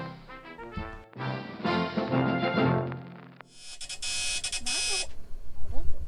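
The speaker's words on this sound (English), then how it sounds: "Anchor alarm came on." A loud, rapid electronic boat anchor alarm beeps in a steady high-pitched burst as the anchor drags, after a stretch of musical sound and brief voices, close by.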